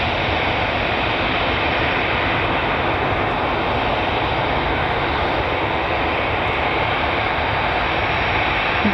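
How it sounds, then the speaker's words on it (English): Airliner rolling slowly down the runway for takeoff at Manchester Airport, a steady, dense roar of jet engines with broadband rushing noise that holds level and unbroken throughout, no voices. "Possibly the slowest takeoff ever."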